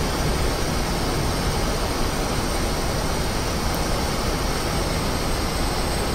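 A MiG-15bis jet engine at full throttle in DCS World, a loud, constant broadband roar with a steady whine on top, unbroken throughout and without speech.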